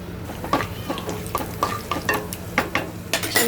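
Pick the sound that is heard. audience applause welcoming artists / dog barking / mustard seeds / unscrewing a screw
mustard seeds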